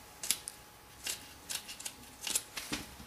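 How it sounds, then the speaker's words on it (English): Scissors snip an oil burner wick to length while servicing an AGA oil burner, giving about six or seven crisp, close metallic cuts in an irregular rhythm against a quiet background. "pop it into the burner like that and snip it off to the right length"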